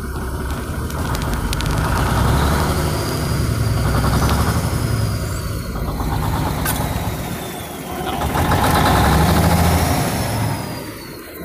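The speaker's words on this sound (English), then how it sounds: "yeah, it definitely has a misfire on it." An old truck engine idles loud and close with an uneven, stumbling misfire, its rough rumble swelling and easing twice over the stretch.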